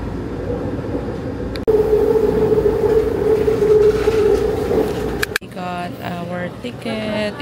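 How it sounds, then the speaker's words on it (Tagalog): Taoyuan MRT metro train running, a steady loud rumble with a sustained hum, then a sharp transition to a different interior tone with faint voices underneath. "Sasakay muna kami ng Taoyuan MRT to HSR."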